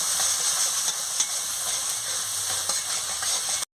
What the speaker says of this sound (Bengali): আমি ভালো করে মশলাটাকে কষিয়ে নিচ্ছি